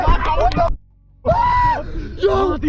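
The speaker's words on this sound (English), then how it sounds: "a man can be heard screaming from inside the room" A man screams from inside a room in two long, strained bursts separated by a brief silence, loud and close, with a rising wail at the end.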